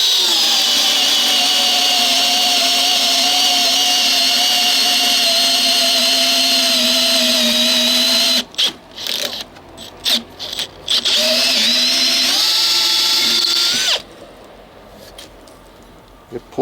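A Makita XPH07 cordless drill bores a 1-inch auger bit through wood, a loud sustained whine slowing under load, then stuttering in short bursts before a final spin-up and stop.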